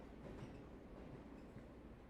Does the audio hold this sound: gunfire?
no